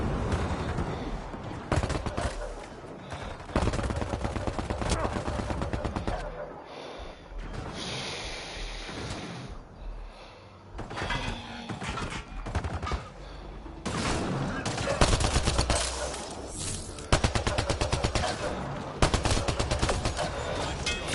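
Enemy gunfire in Mass Effect Andromeda crackles in repeated rapid bursts at the player, loud and near, broken by short lulls, with someone speaking and breathing heavily over the combat.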